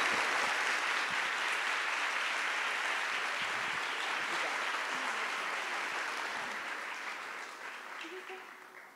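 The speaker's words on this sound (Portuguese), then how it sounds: "Palmas para Inácio." An audience at a literary panel on music and literature at FLISOL 2024 applauds, a dense, sustained wash of clapping that holds steady and then slowly fades toward the end.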